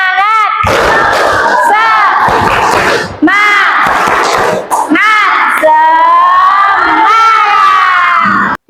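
A class of students doing a rhythmic spirit clap, their loud, excited voices chanting and shouting together in bursts with short pauses in between.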